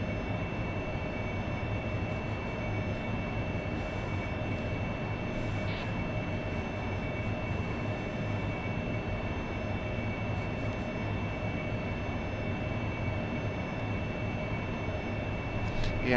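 Aircraft engine roar in the DCS World flight simulator during an AV-8B Harrier strike mission, a loud, continuous drone that holds steady for the whole stretch with no talking over it.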